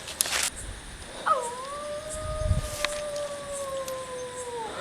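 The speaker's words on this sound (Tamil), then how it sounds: "நாய் கத்துறா" A dog howls in a long, wavering, drawn-out cry that rises sharply and then holds steady for several seconds, fairly clear against quiet night background noise with a few faint thumps.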